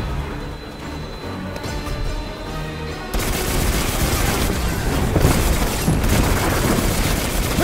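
Dense sci-fi battle from the video game Destiny 2: a loud, continuous barrage of gunfire and missile blasts erupts after a quieter rumbling opening, sustained and close with heavy booms layered throughout.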